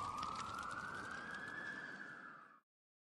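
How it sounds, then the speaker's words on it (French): Fire truck sirens wail in the distance in a Resident Evil audio drama, a single long rising siren tone over a rumbling noisy bed that cuts off abruptly near the end. "Les sirènes des camions de pompiers retentissent enfin au loin."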